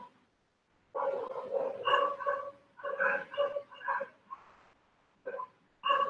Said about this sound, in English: Fucking dogs are barking their ass out.